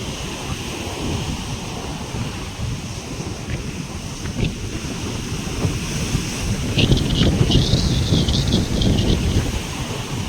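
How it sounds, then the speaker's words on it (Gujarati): Sea waves crash and roll onto the shore at Diu under steady wind noise, the surf swelling louder in the second half with brief bright splashes. "મોજા બહુ બધા આવે છે"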